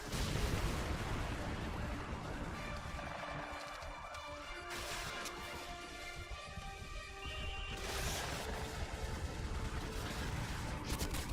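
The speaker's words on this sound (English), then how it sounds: "The evac site is taking heavy fire!" Heavy battle fire in Call of Duty: Modern Warfare 2 (2009) around an evac site under attack: a dense, continuous roar of gunfire and booming blasts, loud and unbroken, with stronger bursts rising out of the din.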